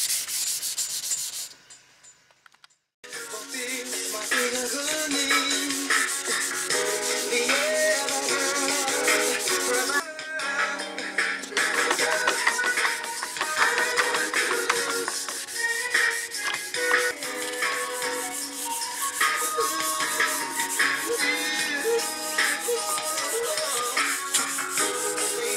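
Close, continuous scratchy rubbing of sandpaper on a plastic Chevy headlight lens goes on for most of the time, with a brief quieter pause near the start.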